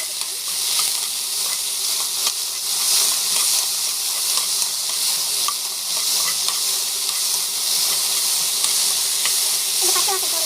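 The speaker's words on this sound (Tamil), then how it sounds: "ஆயில் போட்டுட்டு நல்லா வந்து கொஞ்ச நேரம் வந்து வதக்கணும்" Okra sautéing in hot oil in a home kitchen, a steady broad sizzle running throughout with scraping stir strokes and small crackles, close and fairly loud, no voices.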